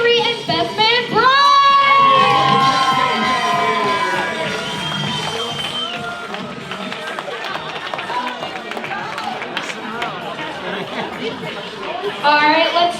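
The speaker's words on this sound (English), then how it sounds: "Let's hear it for Maid of Honor Avery and Best Man Brian!" Wedding reception guests cheer and shout loudly for the maid of honor and best man, a dense crowd roar with whoops and excited voices that stays strong throughout.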